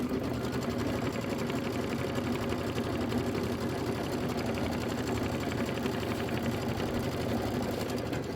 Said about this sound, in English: Here we go with our quilting. This is 2 minutes of stitching.